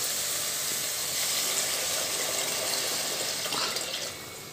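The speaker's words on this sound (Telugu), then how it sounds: "దీనికి కొంచెం వాటర్ ఎక్కువగానే పోసుకోవాలి." Water is poured into a pan of prawn curry made with telagapindi, a continuous close rushing splash that cuts off near the end.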